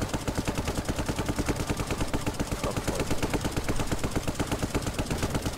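Rapid, sustained machine gun fire in the Brick Rigs video game, a dense rattle of shots at an even, fast rhythm that runs loud and unbroken through the whole stretch with no talk.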